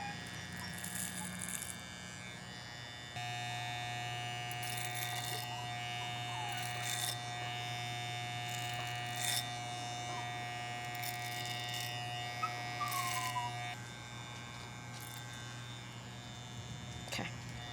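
Electric hair clippers buzz steadily as they cut hair, a constant close motor whine with slight shifts in pitch and load as the blades move through the hair.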